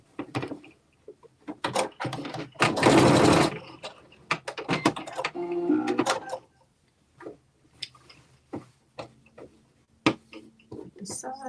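Sewing machine stitching the side seam of shorts made from a top-and-pants pattern, in short bursts of rapid mechanical ticking with pauses, and a person talking between runs.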